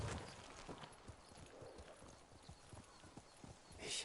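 Horse hooves clip-clopping in Ghost of Tsushima, a faint, steady walking gait of soft repeated hoofbeats with a brief whinny-like burst at the end.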